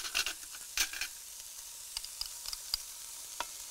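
Freshly crushed garlic goes into a pan with a soft, quiet sizzle, broken by scraping and stirring clicks from a utensil, with no talking.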